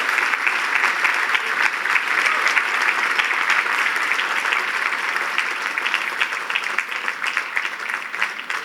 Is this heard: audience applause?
yes